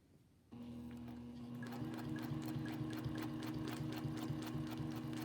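A sewing machine stitches a quilted heart, starting abruptly and then running steadily with a fast, even mechanical stitching rhythm and a motor hum, close by with no talking.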